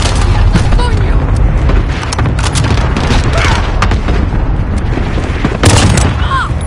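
A grenade blast in the video game Call of Duty Modern Warfare, a loud, dense boom amid continuous gunfire and battle noise that stays heavy throughout, with a sharper burst near the end.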